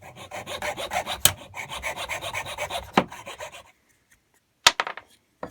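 An extremely fine saw blade cuts wood with a file-like action, making rhythmic rasping strokes up close for about three and a half seconds, then a pause and a few short scrapes.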